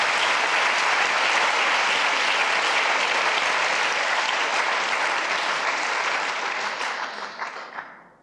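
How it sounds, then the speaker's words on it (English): Audience at a TEDMED talk at Imperial College applauding loudly in a dense, sustained burst of clapping that fades out at the end. "A massive round of applause is well deserved."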